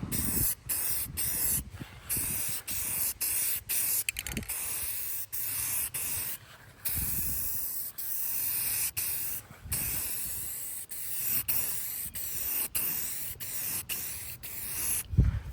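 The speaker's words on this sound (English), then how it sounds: "The bottle, like, sprayed weird." An aerosol spray can paints a car body kit in a series of sharp, close hissing bursts separated by short pauses, with a few longer sprays in between.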